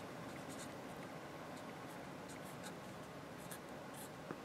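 A pen or marker scratches steadily across a board or paper while an interval is written out for a math problem, a faint continuous scraping with small taps and strokes, and no voice heard.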